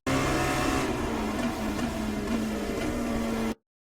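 Dallara P217 LMP2 prototype engine in iRacing at Sebring, a steady loud drone with a few quick pitch drops as it downshifts toward first gear, then cutting off abruptly.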